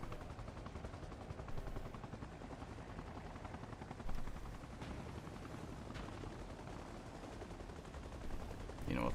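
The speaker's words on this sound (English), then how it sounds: "Oh, that's a supply chopper." A supply helicopter in a video game passes overhead with a steady, droning rotor roar that fills the whole stretch. Scattered gunfire is mixed in beneath it.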